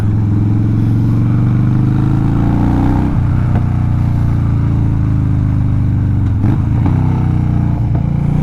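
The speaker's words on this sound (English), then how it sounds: "Where it backfires like that, it just sounds amazing." Stage 1 tuned 2014 Harley-Davidson FXDL Dyna Lowrider rumbling loudly and steadily up close, with a couple of sharp pops and crackles from the exhaust breaking through the deep engine drone.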